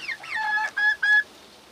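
A young rooster chick cheeps close by, giving a quick run of three or four bright, harmonic cheeps that are almost clucks, then falls quiet.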